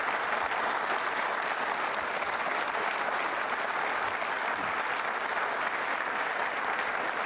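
Students of Manipal University Jaipur applaud as a studio audience at a TV quiz show, a dense and steady round of clapping that fills the whole stretch with no break or fade.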